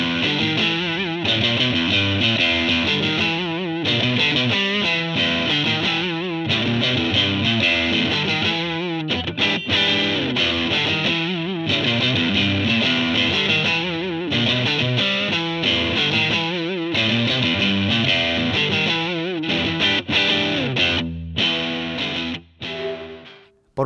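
An electric guitar played through a Blackstar amp plays classic 1970s rock tones with distortion. The riffs are loud and rhythmic, with choppy chords and short pauses running for over twenty seconds.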